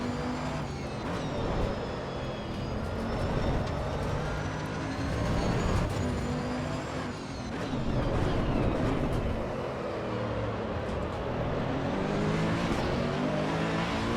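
Race car in the Assetto Corsa Evo racing game accelerating hard at full throttle, a loud continuous engine roar with rising revs and gear changes, steady for the full length with no talking.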